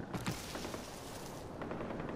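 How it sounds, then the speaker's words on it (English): Muffled gunshots pop faintly in the distance in Far Cry 4, a few scattered bursts over a dense, noisy background. "Some gunshots in the wild distance over there."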